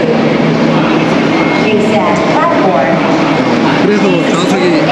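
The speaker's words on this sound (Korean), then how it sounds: "지금 기차가 막 도착했는데 지금 이게 고속철이 아닌 것 같습니다." An ordinary, non-high-speed train arrives at a station in Laos, making a loud, steady rumble and hiss that fills the scene for several seconds.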